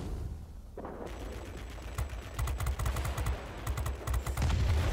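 Aircraft guns fire in World of Warplanes from an XF5U Pancake, a Tier VIII heavy fighter: rapid machine-gun bursts rattle in several quick strings over a steady engine drone, fairly close and loud.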